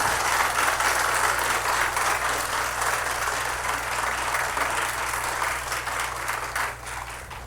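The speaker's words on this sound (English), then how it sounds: "Please join me in welcoming all artists on stage with a big round of applause." A large concert audience applauding steadily after a classical Indian music performance, dense continuous clapping over a low constant hum, easing slightly at the end.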